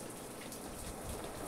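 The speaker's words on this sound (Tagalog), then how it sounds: "Ayan, lumalakas na 'yung ulan." Heavy, steady rain pours down in a dense continuous hiss with drops pattering on surfaces, loud and close throughout.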